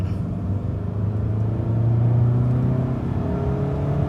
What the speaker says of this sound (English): I'm going to turn on a side road here and show you guys its acceleration